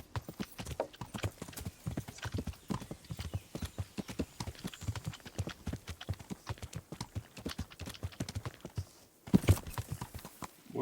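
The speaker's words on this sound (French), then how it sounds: "Ouais, le cheval." Rapid, steady clip-clop of horse hooves in the video game Kingdom Come: Deliverance throughout, fairly close, with a brief louder bump near the end.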